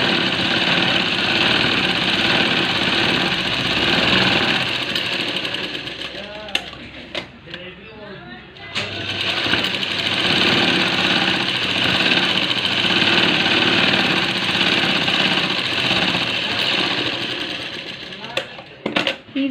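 A sewing machine runs steadily while stitching a blouse seam, with a short pause partway through before the motor picks up again; voices can be heard over it.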